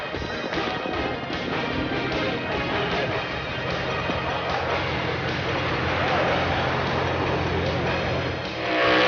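A 1989 IHRA top fuel dragster at St. Louis Gateway International Racetrack gives a sustained, heavily compressed engine roar that swells near the end, with a commentator's voice over it.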